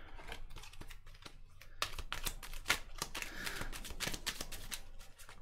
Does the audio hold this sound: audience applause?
no